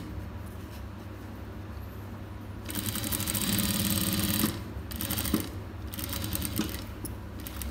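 A sewing machine stitches a border onto a pattu pavadai blouse, running in a few close bursts of rapid mechanical whirring separated by brief pauses over a low steady hum.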